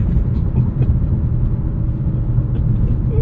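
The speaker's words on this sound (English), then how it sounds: "And that's launch control in the Grecale Trofeo" A 2024 Maserati Grecale Trofeo's twin-turbo V6 rumbles heavily under launch-control acceleration, a deep, steady low-end roar heard from inside the cabin without a break.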